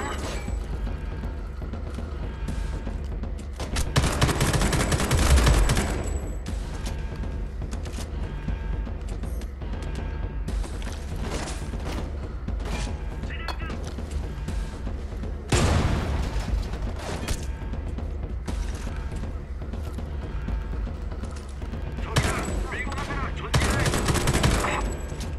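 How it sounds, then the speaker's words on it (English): Gunfire in Homefront: The Revolution, with repeated bursts of automatic rifle fire and heavier volleys across a noisy firefight, loud and close, with a voice talking over parts of it. "Ah, some slick shooting there"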